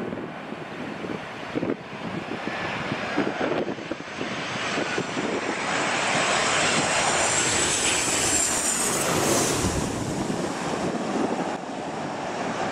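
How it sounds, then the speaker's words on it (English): Airplane landing in a very heavy crosswind, a loud sustained engine roar with rising whine and rushing wind noise swelling toward the middle, heard from nearby on the ground. "A great example of a super landing in a very heavy crosswind."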